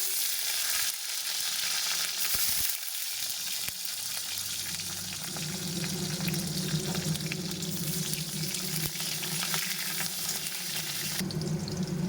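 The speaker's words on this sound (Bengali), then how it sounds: "ক্যাপসিকামগুলো হালকা করে ভেজে নেব।" Capsicum sizzles steadily in hot oil, with a continuous hiss and occasional clinks of stirring, close by.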